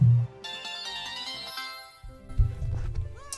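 A phone's text message notification tone rings out loudly, a bright chiming melodic jingle lasting a few seconds, with some low thumps and background game noise underneath.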